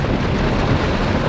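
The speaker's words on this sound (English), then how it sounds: "So hopefully this rain will not last too long." Steady, loud rain with a low thunder rumble drumming on an RV during a long highway travel day, a dense continuous wash filling the whole moment with no voices.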